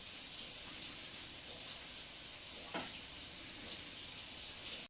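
Vaala fish fries in ghee with a steady, close hiss of sizzling and one brief sharp crackle partway through, then stops abruptly.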